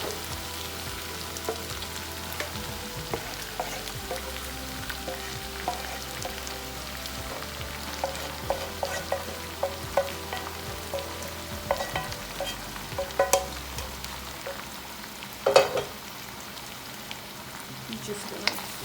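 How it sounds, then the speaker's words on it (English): Aloo gobi with masala stirred carefully in a frying pan, giving a steady low sizzle with soft scraping strokes throughout and a sharper clatter near the end, close and moderately loud. "Just gonna mix it together carefully, not to mush the cauliflower."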